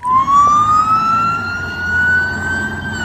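A toy traffic police car sounds a loud, close electronic siren with a rising wail that repeats, standing alone without talk.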